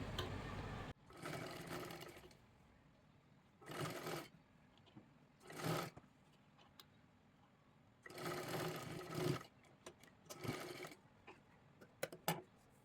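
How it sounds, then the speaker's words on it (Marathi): A sewing machine stitches piping into a princess-style blouse in several short bursts of fast whirring. The bursts are separated by quiet pauses, with a final flurry of quick stabs near the end. "इथल्या मधल्या खाचीमध्ये तुम्ही शिलाई द्यायची आहे"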